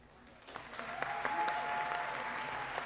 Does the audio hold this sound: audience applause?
yes